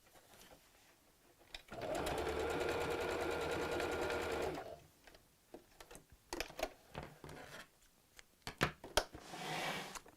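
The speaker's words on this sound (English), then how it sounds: "we're just going to sew the hole closed" A domestic sewing machine stitches shut a hole in a fabric Easter bunny door hanger. It runs as one steady, loud burst of a few seconds, then falls to scattered handling sounds and short rustles.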